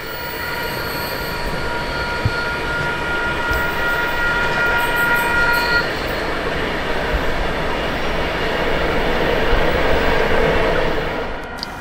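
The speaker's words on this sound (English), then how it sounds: "Three cube locomotives are in charge of this southbound empty steel train." A heavy southbound empty steel freight train hauled by three locomotives rumbles past close by at Wondabyne station, Australia, with a steady roar of wheels on rails and a high metallic squeal running through it.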